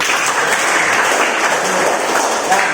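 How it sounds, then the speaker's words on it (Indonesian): A classroom of students applauds steadily and continuously for a few seconds, a dense, even wash of clapping close by and fairly loud, with no talk over it. "Tepuk tangan dulu."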